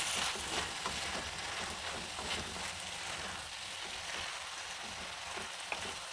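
Two spoons of ghee sizzling steadily in a pan while leftover-rice pulao is being made, a continuous close hiss with light stirring and no voices.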